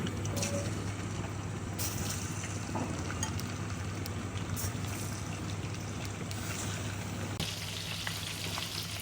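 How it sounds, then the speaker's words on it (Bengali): Large shrimp frying in oil in a wok, a continuous close crackling sizzle with scattered pops and a brief stirring clatter, steady throughout with no talk. "আমি চিংড়ি মাছগুলো একটু ভেজে নেব"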